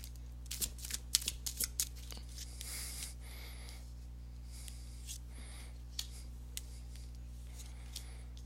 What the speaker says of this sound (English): let me go ahead and give these cards a shuffle